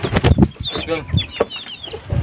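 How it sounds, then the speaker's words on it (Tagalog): Several hungry chickens cluck and chatter close by in a busy, overlapping flurry, with a few sharper calls rising above the rest. "gutom na gutom na kasi yung aking mga manok"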